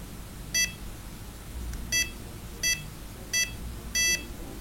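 A Welock SECBN51 smart lock keypad beeps as its button is pressed, five short electronic beeps spaced unevenly with the last one doubled, heard over a low background hum.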